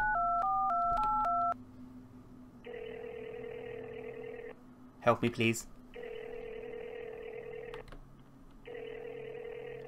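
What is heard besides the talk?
telephone dialing and ringing in indie horror video game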